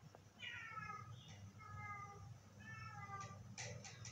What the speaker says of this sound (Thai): เสียงน้องแมวเข้า